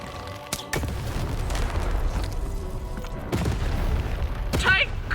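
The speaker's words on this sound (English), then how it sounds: "Shoot the button to fire the cannon." Several booming cannon shots in the video game Lost In Random, sharp blasts at irregular intervals over a low rumbling game backdrop.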